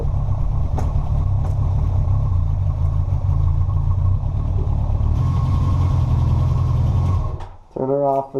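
A motorcycle engine idles steadily in freezing cold weather, a continuous low rumble with a faint rev, close to the microphone, before being cut off near the end and followed by a brief voice.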